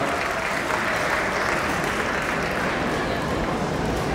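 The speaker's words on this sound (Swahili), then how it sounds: "Tuwapigie makofi tafadhali." A crowd at a fundraising harambee for children's medical treatment claps steadily for donors, a dense, even wash of applause filling the whole stretch with voices mixed in.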